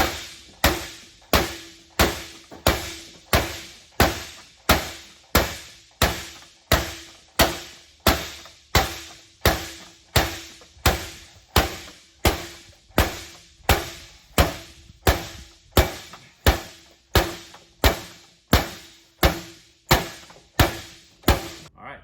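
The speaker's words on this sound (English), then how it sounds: "I'm going to beat the crap out of this screen with a hammer." A steady series of heavy hammer blows strikes a window screen, each one a sharp, loud thunk, repeating at an even pace about once per second.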